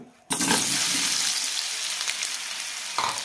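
Banana pieces drop into hot ghee in a pan with a sudden loud sizzle that settles into steady close frying hiss, with a brief stir near the end.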